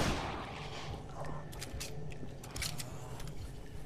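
Gunfire in the video game Dead Island, several sharp shots cracking out at irregular intervals over a low background rumble.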